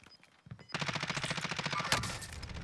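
Rapid bursts of automatic gunfire rattle loudly and continuously in the video game Call of Duty: Warzone, a dense stream of shots with a heavier blast near the end, with no talking.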